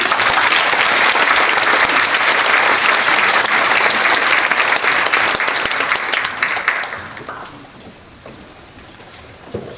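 Church congregation applause at a pastors' leadership handover ceremony in Daejeon, dense sustained clapping that fills the hall for about seven seconds, then tapers off to scattered claps.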